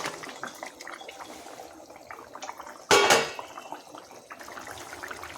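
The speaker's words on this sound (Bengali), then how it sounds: "ঝোল ফুটে গেছে আলুও নরম হয়ে গেছে এবার ভেজে রাখা মাছটা দিয়ে দেবো" Fried kalbasu fish drops into a boiling potato curry with one sudden loud splash and sizzle that fades within a second, between quieter stretches of bubbling and faint kitchen clinks.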